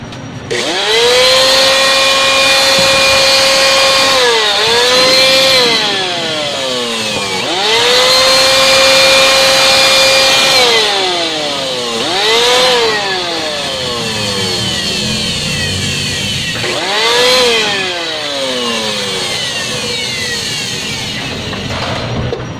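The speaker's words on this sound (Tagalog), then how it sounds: "Blower natin para matis yung alikabok." An air blower blowing dust out of an electric fan gives a loud, close, whining motor roar that repeatedly revs up, holds, then drops in pitch, several surges in a row with no talking.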